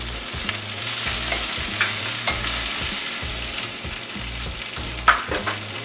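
Eggplant, garlic, lemongrass and fresh ginger stir-frying in a pan with sesame and olive oil, a steady close sizzle broken by repeated scraping stirs at a loose, uneven rhythm, with no talk.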